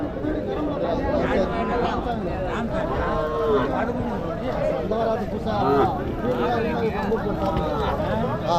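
Cattle moo repeatedly at a busy livestock market in Tamil Nadu, the lowing and calls overlapping amid crowd chatter and someone talking nearby throughout.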